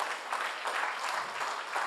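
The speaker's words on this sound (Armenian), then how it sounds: "եկեք ծափարենք Տիրոջը" A church congregation claps together in warm, sustained applause, a dense wash of hand claps lasting the whole moment with no talking over it.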